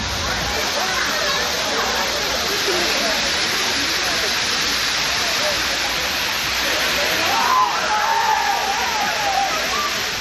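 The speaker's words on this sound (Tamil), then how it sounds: "தேனி மாவட்டம் கம்பம் அருகே உள்ள சுருளி அருவியில் சுற்றுலா பயணிகள் உற்சாக குளியல் போட்டனர்." Suruli waterfall near Cumbum in Theni district roars in a loud, continuous wash of falling water, with faint splashing and crowd noise from tourists bathing beneath it.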